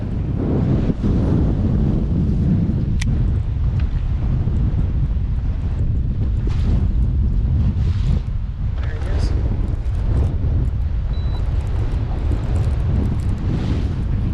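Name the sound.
wind blowing over lake during boat fishing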